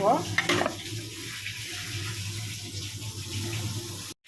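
Chicken 65 pieces frying in oil in a pan give a steady, close sizzling hiss that carries on without a break, with a brief stirring clatter near the start.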